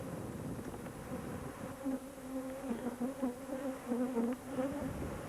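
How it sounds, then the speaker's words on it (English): Italian honeybees, queenless package bees, buzz steadily in a dense, droning swarm, the hum rising and falling slightly as individual bees pass close by. "These bees here are queenless bees, waiting to have the queens put into them."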